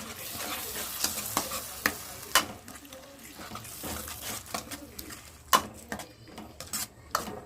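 Gongura fish curry with ground spices is stirred in a pan, with scraping spoon strokes and sharp clinks against the metal over a soft steady sizzle, close and fairly quiet.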